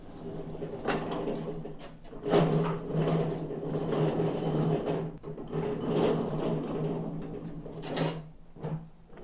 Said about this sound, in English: Just grab it with the dolly, push down, and then you can move the lift.